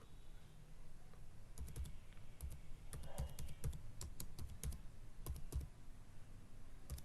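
Quiet computer keyboard typing in short, irregular bursts of crisp key clicks while a release group name is entered, close and faint with no talking.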